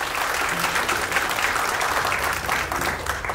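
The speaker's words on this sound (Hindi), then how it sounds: "साहिबा बाली के लिए जोर से ताली बजाएंगे हम।" An audience at a fan meet applauds loudly for Sahiba Bali, a thick, continuous patter of clapping from a crowd that holds steady for the whole stretch.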